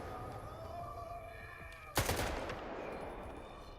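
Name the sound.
gunfire from enemies in S.T.A.L.K.E.R. 2 video game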